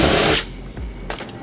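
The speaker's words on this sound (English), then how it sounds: "Hold it in place and then just go ahead and drill it." A power drill boring a screw hole for a fender flare on a 5th-gen Toyota 4Runner, one short loud whirring burst that stops abruptly, followed by faint handling noises.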